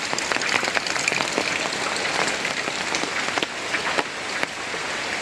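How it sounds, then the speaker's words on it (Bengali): Heavy monsoon rain from a low-pressure system, pouring outside a house for days on end: a dense, continuous hiss with scattered sharper drips and splashes, fairly loud and steady, with no voices. "আজকে কয়েকদিন যাবৎ বৃষ্টি, তাও একদম নিম্নচাপের বৃষ্টি।"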